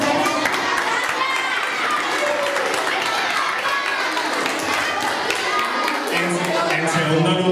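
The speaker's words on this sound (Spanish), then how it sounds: "el aplauso en primer lugar os lo damos los profesores a vosotros por las actuaciones que habéis hecho" Teachers clap for students' performances at a school farewell, a steady, full applause that continues throughout with voices mingled underneath.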